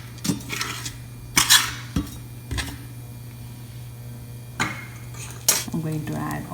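Cumin seeds and whole spices stirred in a pan for an okra curry; a handful of sharp utensil scrapes and clinks against the pan at irregular intervals over a steady low hum, with no talking.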